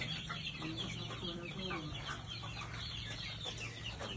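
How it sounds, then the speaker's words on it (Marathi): A desi rooster and hens cluck and chirp nearby on a poultry farm, with overlapping calls filling a steady farmyard din throughout. "हे आपलं देशी कोंबडा आहे"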